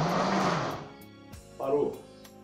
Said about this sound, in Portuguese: O liquidificador, ele roda, para.